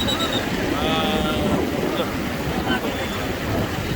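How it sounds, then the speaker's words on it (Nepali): A swollen, flooded river in Nepal surges past a waterlogged road, giving a steady, loud, broadband roar of rushing water with wind buffeting the microphone throughout. "ल खोला चढिसकेछ"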